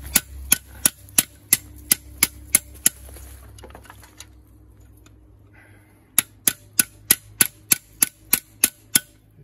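Sharp, ringing metallic strikes of a hammer on a chisel against a burned-out engine, struck in steady evenly spaced series, with a pause before another rapid run of blows, loud and close.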